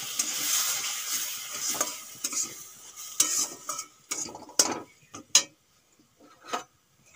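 Spoon stirring hot milk into fried semolina in a pan for semolina rasmalai, with a soft sizzle fading and then sharp scraping clinks against the pan that come in separate bursts toward the end.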